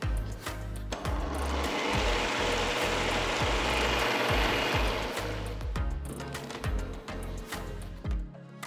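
A kitchen mixer grinder whirs steadily as it purees tender coconut flesh with tender coconut water, with a pulsing low churn throughout and no talking.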